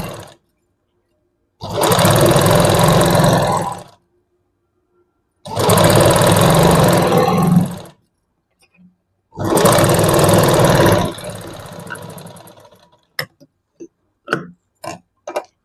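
Sewing machine stitching a waist belt for a lined blouse: three loud, even bursts of rapid stitching a few seconds each with silent gaps, followed by scattered sharp clicks and taps.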